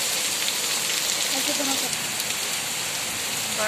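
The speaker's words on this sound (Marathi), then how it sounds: "कसा पाऊस वाढला" Heavy rain pouring down as it intensifies, a close, steady wash of hiss with faint scattered drips and no break.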